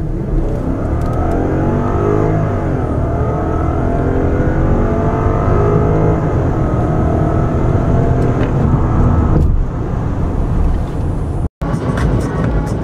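Lexus LS-460 engine accelerating, a smooth rising drone of engine and road noise heard from inside the car, steady and fairly loud for about nine seconds before dropping to a quieter cruise, with a brief cut near the end.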